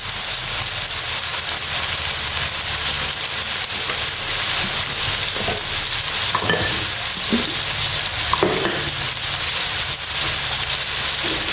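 Kan jong vegetables and herbs are stir-fried in a hot pan, giving a steady, close sizzle with intermittent scraping and stirring clatters throughout, with no voices.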